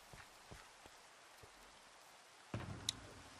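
Soft, steady rain in Minecraft, a faint patter with a few scattered drips and one slightly louder splash toward the end, with no voices.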